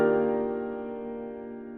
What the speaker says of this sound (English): So I'm going to go straight for the Yamaha grand piano